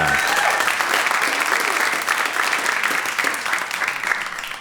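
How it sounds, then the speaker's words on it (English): A comedy club audience claps loudly and continuously for the bartender working the bar that night, a dense wash of applause filling the room before gradually thinning. "Let's get a round of applause for Ray working the bar tonight"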